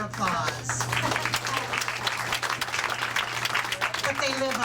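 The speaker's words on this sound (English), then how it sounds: "and they love your applause" Audience applause for the Bluebird bar and door staff at a Monday open mic night, a steady wash of clapping from a seated crowd with a constant low hum and a voice speaking over it.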